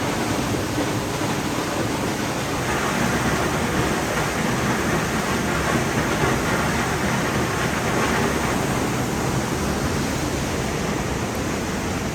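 North Falls, a 136-foot waterfall at Silver Falls State Park in Oregon, plunges into North Fork Silver Creek with a steady, loud, broadband roar that holds constant throughout.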